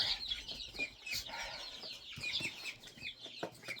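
Several chickens cluck in a coop, a flock of about 34 birds including brown and black hens, with scattered calls and rustling close by throughout, and no one talking.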